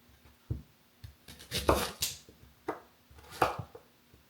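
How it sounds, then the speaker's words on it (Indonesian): A knife cuts onion into large pieces on a board, several close, uneven chopping thuds and crunches separated by short quiet pauses. "Kalau bawang ini dipotongnya nggak apa-apa besar-besar ya"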